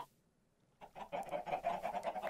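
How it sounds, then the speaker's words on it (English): Minecraft chickens cluck in a quick, rapid series after a moment of near silence, close and moderately loud. "Yeah, there are lots of chickens everywhere."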